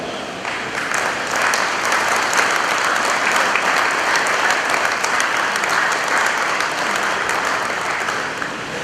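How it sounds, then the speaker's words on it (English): A crowd at a 2019 Independence Day ceremony in the Federated States of Micronesia claps in a loud, sustained round of applause that holds steady for several seconds. "May we all give them a round of applause"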